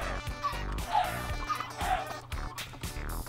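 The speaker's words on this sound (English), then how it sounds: "You burn the chickens." Minecraft chickens being burned in a chicken spawner cooker in SkyGrid, with squawky clucks and short sweeping cries repeating over a busy background, loud and close with no talking.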